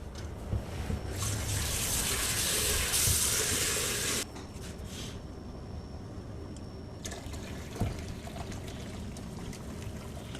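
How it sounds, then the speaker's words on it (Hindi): About two liters of water pour into a pot for kadhi pakora batter, a bright, loud splashing rush that stops abruptly partway, followed by quieter kitchen clatter and a small knock. "अब हमने अपनी ज़रूरत के मुताबिक इसमें पानी शामिल करना है।"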